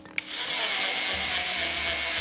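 A power drill drives a 0.5 cm screw into plywood, a steady close whirring that runs the whole two seconds after a short click, the motor tone dropping slightly as the screw bites into the layered wood.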